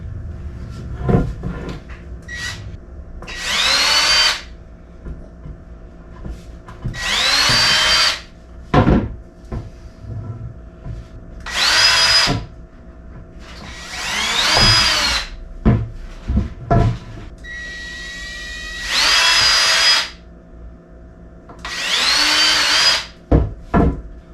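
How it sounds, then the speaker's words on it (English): A power drill runs in repeated short bursts, about eight in all, pre-drilling screw holes in wood for a washer and dryer platform, with clacks and handling noises between each burst. "So I'm going to take it everywhere that I plan on putting a screw, I'm going to pre-drill it"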